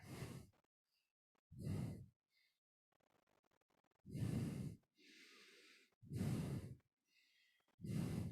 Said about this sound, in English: Breathing long and deep.